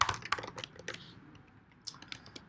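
Code typed on a computer keyboard: quick, irregular clusters of close, crisp key clicks with a brief lull in the middle, and no talking.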